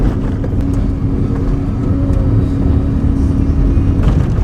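Car climbing a curvy Andean dirt road in Peru, heard as a loud, steady engine drone with road rumble, close inside the vehicle, without talking.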